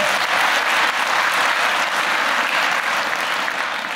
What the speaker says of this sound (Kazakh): өздеріңіздің құрметтеріңізге бір қаттырақ шабағын қосаңыздар